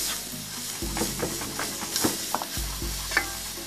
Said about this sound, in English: You saute your vegetables, first of all your onions for about 3 to 5 minutes.